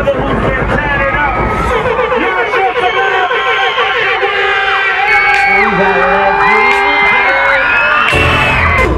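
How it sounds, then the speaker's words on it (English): A large crowd cheers, whoops and screams loudly and continuously at a car and bike show, with high yells rising above the din throughout. "Scream as loud as y'all can"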